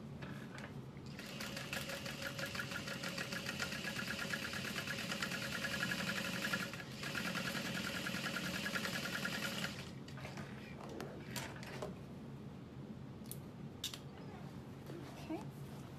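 A sewing machine stitches along the seam of a bucket bag in a steady mechanical whir for about nine seconds, then stops, leaving a few quiet clicks and handling noises.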